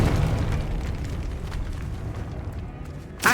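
A Confringo fire spell explodes in Hogwarts Legacy, a loud close blast with a rumbling, crackling decay that tails off, then a sharp burst right at the end.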